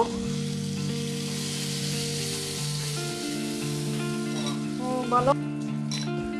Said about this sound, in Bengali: সামান্য একটু নুন আর একটু সামান্য হলুদ দিয়ে বেগুনগুলো ভেজে নেব